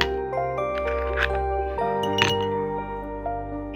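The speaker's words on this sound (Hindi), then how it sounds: "अब हम ये आइस लेंगे, अपने ग्लास में डालेंगे." Ice dropped into a glass while making peach sharbat, giving bright clinks and tinkling rings that hang over a steady musical background.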